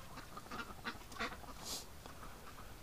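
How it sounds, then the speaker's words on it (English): Ducks feeding outdoors on a winter day give a few soft, scattered quacks and honks at a moderate distance over low background noise. "Duck's having a snack."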